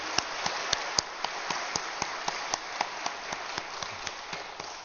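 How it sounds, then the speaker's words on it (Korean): A church congregation claps in thanks after an early-morning autumn special dawn prayer service, giving sparse, crisp individual claps and scattered taps at a moderate distance, fairly quiet and steady over a soft room hiss. "수고한 모든 분들께 우리 감사의 박수"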